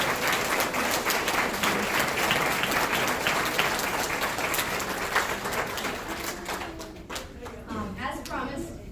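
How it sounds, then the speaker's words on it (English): An audience at a graduation ceremony applauds the graduates with sustained, dense clapping that tapers off toward the end as a voice begins speaking. "Can I get one last round of applause for all of our graduates?"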